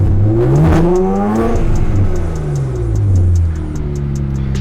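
A BMW engine revs up and down loudly nearby at a Copart auction lot, with small crackling pops from the exhaust as the revs drop.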